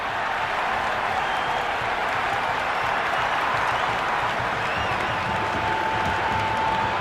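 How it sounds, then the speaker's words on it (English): A cricket video game crowd roars and applauds after a hat-trick, a dense, steady wash of cheering and clapping that holds at full volume throughout. "the crowd are going wild"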